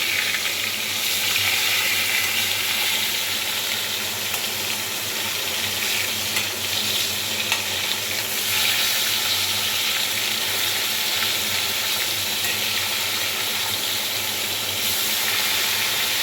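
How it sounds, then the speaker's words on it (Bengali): Koi fish frying in hot oil in a pan, a steady dense sizzle that runs unbroken and fairly loud throughout, with no voices over it. "এই ভেজে রাখা তেলের মধ্যে মাছগুলো এক এক করে সব ভেজে নেব"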